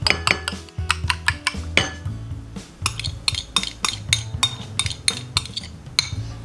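A metal utensil whisks egg and sour cream in a bowl for raisin scones, clinking rapidly and rhythmically against the side in steady repeated strokes, loud and close with no talking.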